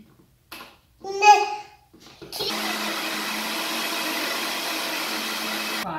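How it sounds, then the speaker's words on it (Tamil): A kitchen blender grinds mango pulp for a homemade Frooti mango drink, starting with a loud, steady whirring roar that runs to the end, after a brief child's babble. "இப்போ ஃபுல்லாக பிளெண்டருக்கு மாற்றிட்டோம் இதை நல்லா அரைச்செடுக்கணும் இப்போ அரைச்சி எடுத்துடுறேன்"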